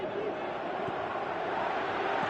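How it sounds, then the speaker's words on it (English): The crowd in the Winning Eleven 2018 football video game roars steadily, a dense, even wash of many voices that sits under no other sound for a couple of seconds. "Crowd calling for him to shoot."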